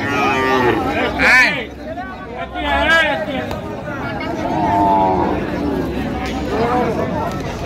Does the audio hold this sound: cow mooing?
yes